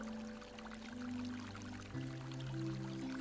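Water flows softly beneath calm meditation music, its gentle steady trickle blending with sustained low tones that shift once midway.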